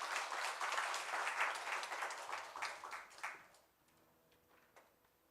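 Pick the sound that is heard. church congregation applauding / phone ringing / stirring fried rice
church congregation applauding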